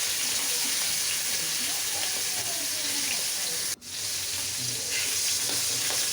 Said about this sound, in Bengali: এখন মাছের মাথাগুলো ভেজে নিব।